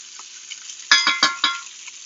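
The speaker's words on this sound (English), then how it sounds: "a spoon to give the demi-glaze a little spin" A spoon swirls demi-glace in a pot, giving a few quick bright clinks and scrapes in a short burst near the middle, close and clear with no talking.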